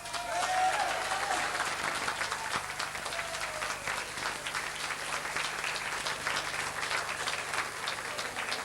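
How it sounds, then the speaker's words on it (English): Steady applause from a boxing audience at a 1988 Mayo champions' night, honouring boxer Noel Coggins of the Ordinary Boxing Club, sustained and dense throughout with a faint crowd murmur beneath. "Give a round of applause to Noel Coggins."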